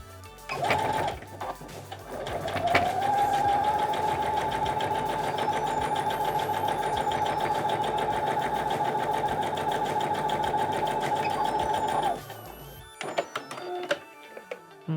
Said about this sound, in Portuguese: vamos pra máquina agora costurar